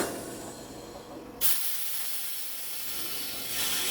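Truck trailer air brakes cycled on a chassis with a standard 30-30 brake chamber, giving a sharp loud hiss of released air that cuts in abruptly and then holds as a steady rushing hiss.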